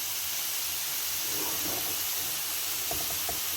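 Chicken tikka pieces sizzling in a non-stick pan, a steady broad hiss of frying that holds for the whole stretch, with a few faint clinks near the end.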